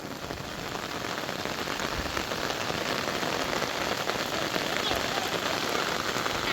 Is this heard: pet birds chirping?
no